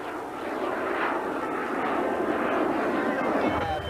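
Propeller airplanes flying inverted at an air show by the sea, a loud sustained engine drone that swells and fades as they pass, with a commentator talking over it.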